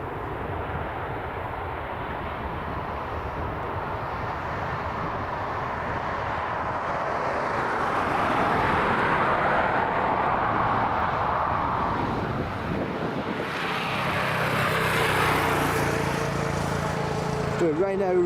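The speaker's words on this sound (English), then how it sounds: "For a Ryanair arrival, we've got a Ryanair departure. FR1974, this Boeing 737 heading over to Poznan." Ryanair Boeing 737 jet at Dublin Airport, a broad engine roar swelling louder as it passes, with wind buffeting the microphone and a commentator talking over it.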